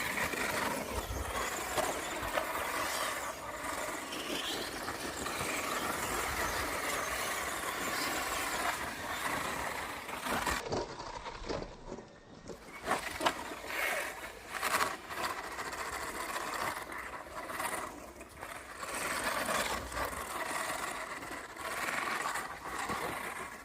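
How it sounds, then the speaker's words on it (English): An MJX MEW4 mini RC car with a gearbox mixing plastic and metal gears drives on a track, giving off a continuous, buzzing, whirring mechanical drone that wavers in pitch and briefly drops off midway before resuming. "we've had a bit of a failure, as we suspected, mixing plastic and metal gears. Didn't sound very good."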